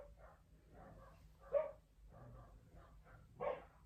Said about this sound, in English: Dogs are all barking, sorry.